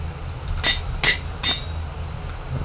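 Three sharp metallic clanks ring out in quick succession from an anvil being used in Minecraft, each bright and short, over a low steady background hum.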